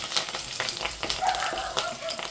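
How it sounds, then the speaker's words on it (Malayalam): Spices and curry leaves sizzle and fry in a hot pan, a steady crackling hiss with scattered pops and occasional stirring scrapes, close and continuous with no talking. "ഇതെല്ലാം കൂടെ കിടന്ന് മൂത്തൊന്ന് പച്ചമണം മാറി സെറ്റാവട്ടെ. കരിയാപ്പിലയും കൂടെ അങ്ങോട്ട് ഇട്ടേക്കാം."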